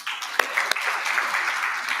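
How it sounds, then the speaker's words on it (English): Audience applause at a MICT SETA stakeholder roadshow presentation in Johannesburg, with steady clapping from a room of people heard throughout and fairly loud. "I think that deserves a round of applause."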